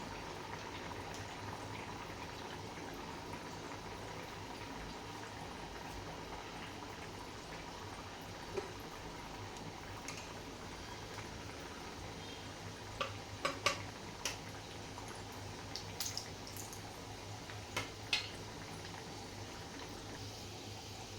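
Small thick sabudana vadas fry in hot oil with a faint, steady bubbling hiss, dotted with a few light crackles and ticks in the later part.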